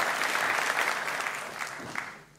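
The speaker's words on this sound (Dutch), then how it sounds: "Dat mag voor geklapt worden" Audience applause after a dance performance, a burst of clapping from a crowd that fades over a couple of seconds.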